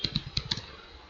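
Computer keyboard keys tapped in a quick burst of about six close, crisp clicks in the first half second, then quiet room tone.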